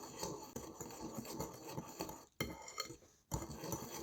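Chocolate cake batter of sugar, cocoa and baking powder is mixed in a bowl, giving a steady run of close scraping, clinking utensil strokes against the dish, with two brief pauses.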